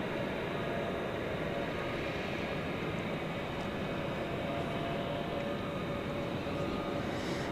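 An Airbus A321 taxiing and making its turn onto runway 18 Left at DFW airport at night, a steady, distant broadband engine rumble and hiss that holds even throughout.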